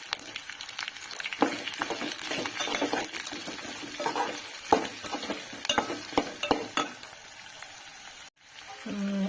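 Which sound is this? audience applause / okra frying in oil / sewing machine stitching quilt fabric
okra frying in oil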